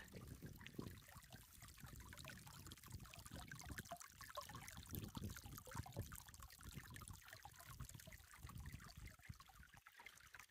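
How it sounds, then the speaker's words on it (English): A quiet, steady trickle of water runs continuously, soft and close, with small gurgling variations and no speech. "The sound of water."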